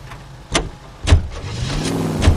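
A car in the 1940s Los Angeles world of the video game L.A. Noire starts up and pulls away. A few sharp door or mechanical clunks lead into a rising engine hum, close and moderately loud, with no talking.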